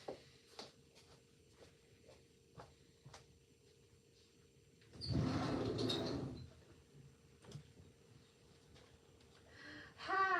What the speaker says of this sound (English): I'm gonna open the screen door